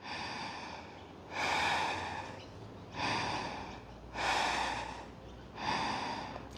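Slow, deep breaths taken while holding a yoga pose: five audible inhale-and-exhale cycles roughly a second and a half apart, close and airy, with no talking.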